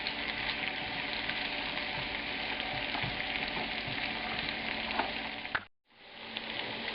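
Sliced red onions fry in a hot pan with a steady, close sizzle and occasional stirring, briefly cut off near the end before the sizzling resumes.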